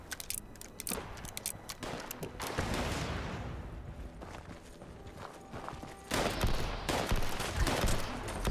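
Rapid bursts of weapon fire in Fallout 76, dense and loud, with sharp cracks clustered early, a quieter lull in the middle, then another heavy volley near the end.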